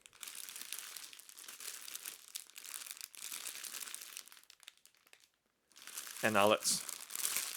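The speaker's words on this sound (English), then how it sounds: "take the panettone out from its clear plastic bag packaging by, of course, undoing the wire that's keeping" Clear plastic bag packaging around a 750 gram La Torinese Panettone Classico crinkles up close in bursts of soft, papery rustling, with a brief pause and then louder crunchy crumpling, while someone speaks briefly over it.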